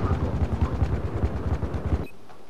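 Helicopter in the video game Battlefield 4, a close rhythmic rotor thumping that runs for about two seconds and then cuts off abruptly into near silence.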